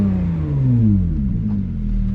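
A Porsche 911 Speedster fitted with an Akrapovic exhaust revs to 5000 rpm, a loud, close engine roar whose pitch rises and then falls back as it settles into a deep rumble.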